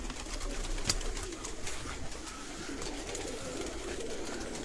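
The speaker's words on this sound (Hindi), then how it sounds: "हर नस्ल का कबूतर है।" Pigeons of many breeds coo steadily at a bird seller's in Sialkot, with soft overlapping calls and faint fluttering close by, and no talk.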